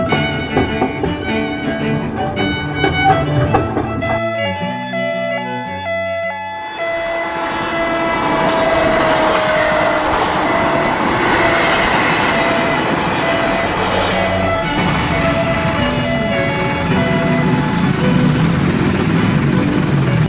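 A KRL commuter train in Indonesia rumbles along with a loud steady roar, tonal horn-like and electronic chimes at the start, continuing as a sustained mechanical drone.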